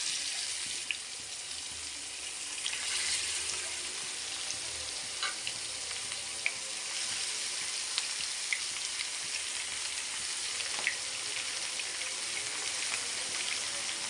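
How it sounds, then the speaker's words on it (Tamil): Fish fries in hot oil with a steady, even sizzle and faint crackles throughout, fairly quiet and with no voices. "மீனை பொரிச்சு எடுத்துரும்."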